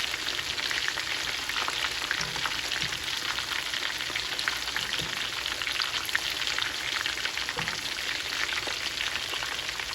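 Korean sweet and spicy fried chicken deep frying in hot oil gives off a steady, dense sizzle and crackle that stays even and close throughout, with no voices.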